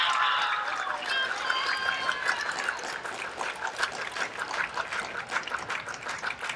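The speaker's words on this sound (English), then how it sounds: "Give her a stinking round of applause" Applause from a school audience at a ninth-grade academic awards assembly, a steady crackling patter of many hands that fades slightly toward the end, heard without talk.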